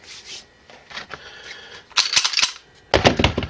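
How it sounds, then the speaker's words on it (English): Rounds are stripped from a Springfield Armory XD40 pistol magazine, giving a series of sharp metallic clicks and scrapes that come in uneven bursts, close and fairly loud, with no one speaking. "I'll empty the mag for the XD40."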